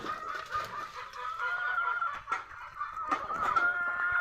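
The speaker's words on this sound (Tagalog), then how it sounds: "Mga inahing manok at saka tandang." Hens and a rooster on a hot farm, several birds clucking and calling in overlapping bursts at close to middle distance, with sharp squawks punctuating a steady cackling chorus and no talking.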